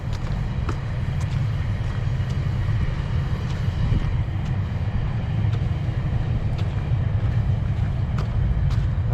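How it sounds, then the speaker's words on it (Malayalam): A long-distance GO train passes through Canada on a cold, bad-weather April morning, giving a steady low rumble with faint regular rail clicks over several seconds, at a distance and with no talking. "അതാട്ടോ ദീർഘദൂര ട്രെയിന് പോകുന്ന ഗോ ട്രെയിൻ"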